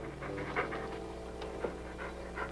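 A lion breathes heavily and pants close behind someone's neck, a steady rough rhythmic panting with a few louder huffs, near and alone with no talk.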